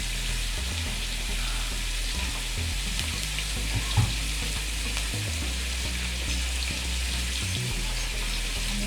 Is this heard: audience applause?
no